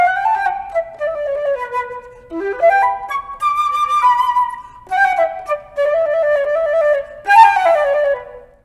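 A solo flute plays a soft, lyrical section of a Louisiana All-State technical etude, with clear sustained notes, upward scale runs and a few brief pauses, close and alone.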